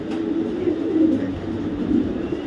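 Racing pigeons murmur and coo in a low, continuous rumble close by, with no voices.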